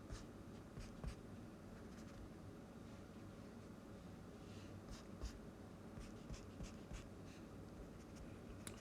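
Pencil scratching on paper as points are sketched for a rhombus geometry problem, faint soft strokes with a few brief taps over a steady low room hiss, no talking.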